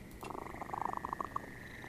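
Gentle cat purring in the game Penny Arcade Adventures, a short run of rhythmic, pulsing rumbles that swell and fade over under two seconds, close and fairly clear.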